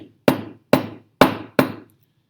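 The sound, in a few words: hammer tapping and crushing brittle substance on paper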